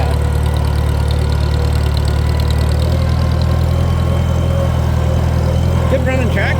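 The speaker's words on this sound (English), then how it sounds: "Good running tractor though" A Farmall C tractor engine runs steadily at idle, a continuous low throbbing drone held loud and close throughout, with a few faint higher clatters near the end.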